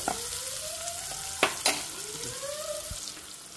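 Cluster bean curry fries in a pan, a steady soft sizzle with a few sharp clinks and scrapes of a spoon stirring, close and without talk.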